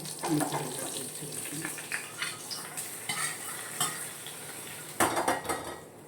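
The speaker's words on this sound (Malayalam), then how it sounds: "ഉള്ളിക്കറി കടുകൊക്കെ വറുത്ത് നല്ല എണ്ണ തെളിഞ്ഞ് വന്നിട്ടുണ്ട്" Onion curry with mustard seeds frying in oil, stirred with a utensil: clinks and scrapes against the pot over a continuous close sizzle, with a louder clatter near the end.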